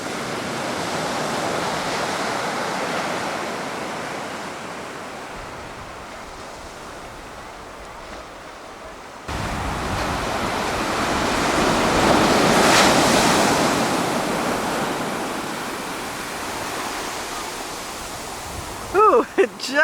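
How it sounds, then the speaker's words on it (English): Ocean waves roll and break continuously on a beach at Cabo, Mexico, with a steady wash of surf, swelling louder midway, and wind buffeting the microphone. "Look at these waves."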